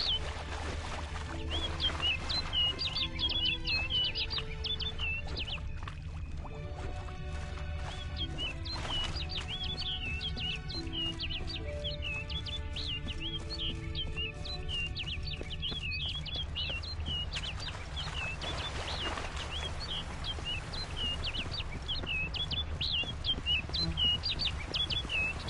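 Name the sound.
bird chirping in The Witcher 3 video game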